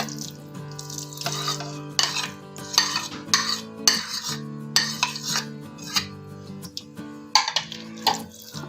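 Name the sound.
mixing Maggi noodles kebab mixture in a bowl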